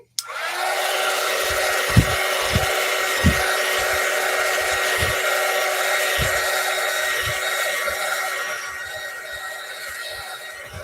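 A hair dryer blows steadily and loudly at close range for the whole stretch, drying a decoupage craft piece, with occasional low thumps under the continuous whoosh.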